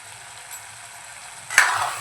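Cooked mutton being mixed with fresh coriander in a pan, a quiet low sizzle followed by a sudden louder scrape and swell of frying as the spoon turns the meat.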